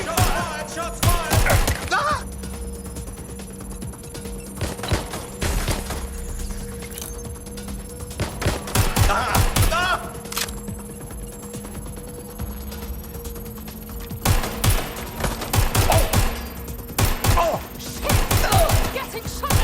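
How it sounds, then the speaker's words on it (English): Gunfire in Watch Dogs: Legion comes as sharp, loud bursts of shots and impacts, clustered into several volleys with quieter gaps between them and a faint steady hum underneath. "Getting shot at here!"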